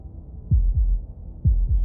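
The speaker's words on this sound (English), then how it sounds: "That was the sound of a heartbeat," A heartbeat sound effect in the video game Slay the Princess thumps in deep, close double beats, two lub-dub pairs spaced evenly over a low rumble.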